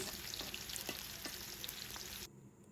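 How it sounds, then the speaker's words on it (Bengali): Chopped onions fry in hot oil for beef nihari, a steady close hiss with light stirring clicks scattered through it, cutting off sharply near the end. "আর পেঁয়াজটাকে খুব ভালোভাবে ভেজে নিচ্ছি, বারবার নেড়ে চেড়ে দিচ্ছি।"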